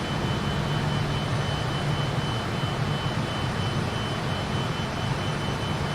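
Fokker F28 airliner jet engines in flight, heard from inside the cockpit as a steady, dense roar with a faint hum, unchanging and continuous throughout with no voices.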